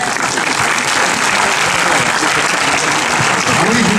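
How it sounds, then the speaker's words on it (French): Sustained, dense applause from a film premiere audience at a screening of Brillantissime, loud and steady throughout, with voices murmuring underneath. "allez, on les applaudit"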